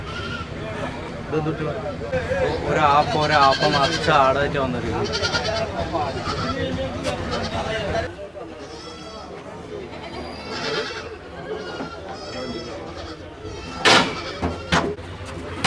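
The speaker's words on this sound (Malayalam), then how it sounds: "ആടുകൾ കണ്ടമാന ആടുകൾ വന്നു ഇവിടെ അത് ആ ആടിൻ്റെ കച്ചവടം നടന്നുകൊണ്ടിരിക്കുന്നു" Several Malabari goats bleat repeatedly, close and loud, amid a busy crowd of people talking at a wholesale goat market in Malappuram, Kerala.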